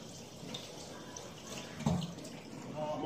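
Hands are washed under a running kitchen tap while a cook prepares sausage-stuffed pork loin, giving a steady close water hiss with a brief louder splash midway.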